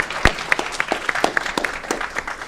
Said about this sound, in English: Let's give them a round of applause for their great work in the community.